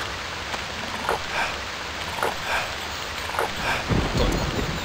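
Continuous rain in the Stranded II video game, a dense steady hiss with patter and a low rumble swelling near the end, no one speaking.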